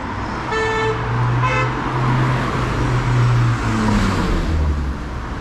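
A car speeds along a busy street in Kilkenny, Ireland, its engine noise loud and close over constant traffic, with two short horn toots near the start.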